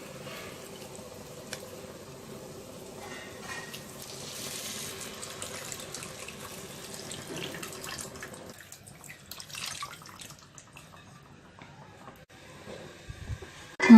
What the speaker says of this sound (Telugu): ఒకసారి అంతా బాగా కలుపుకొని నానబెట్టుకున్నటువంటి చింతపండు రసంను తీసుకుని వేసుకోవాలి.